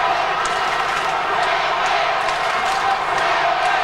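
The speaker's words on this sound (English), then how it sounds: "The crowd screaming Sydney" A dense crowd roars and screams without letup at a 1991 Australian rules football match between the Sydney Swans and the Hawthorn Hawks, a loud, steady wash of massed voices with scattered sharper shouts rising above it.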